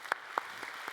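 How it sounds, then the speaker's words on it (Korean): A Korean church congregation at a Sunday service claps: four crisp, evenly spaced claps in about a second, moderately close against a quiet room. "자리에서 일어나시면 우리 박수하도록 하겠습니다."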